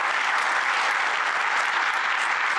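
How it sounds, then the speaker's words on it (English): A conference audience at a desert water event applauds its sponsors with dense, steady clapping that holds evenly throughout, with no voices over it. "if we need to give them a great round of applause"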